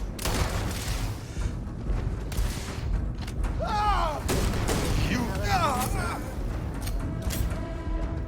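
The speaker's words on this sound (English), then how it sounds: "Open fire!" Gunfire from a volley opening up in a sci-fi audio drama, loud bursts and booms with creaking mechanical effects running continuously over a steady bed of background noise.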